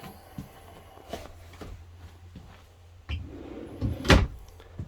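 Large drawers in a 2021 Kodiak 332BHSL camper trailer slide and bump: soft scattered knocks early on, then a cluster of louder wooden thuds and a sharp clack near the end, all close and quiet.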